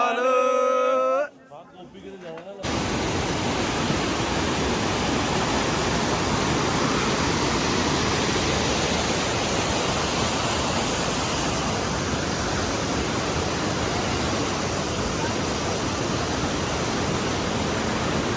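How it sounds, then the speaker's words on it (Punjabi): A waterfall on the mountain trek to Hemkund Sahib roars as a steady, loud, unbroken rush of water, after a brief opening of speech. "ਝਰਨਾ ਆ ਗਿਆ"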